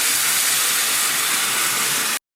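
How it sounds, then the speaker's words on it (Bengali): Hot water hits sizzling chicken curry in a pan, a loud, close, steady rushing hiss of steam that holds evenly and then cuts off abruptly, with no voices. "এবার আমি গরম জল দিয়ে দিচ্ছি।"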